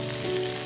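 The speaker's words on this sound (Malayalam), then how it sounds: "വെളിച്ചെണ്ണ ചൂടാകുമ്പോൾ കടുകും വറ്റൽമുളകും കറിവേപ്പിലയും ചേർത്ത് താളിച്ചെടുക്കാം" Mustard seeds, dried chillies and curry leaves sizzle in hot coconut oil, a soft steady crackling fry with a faint hum behind it, brief and quiet with no voices.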